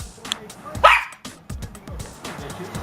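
A playful puppy lets out one short, sharp bark near the microphone, surrounded by soft thumps and rustling from play.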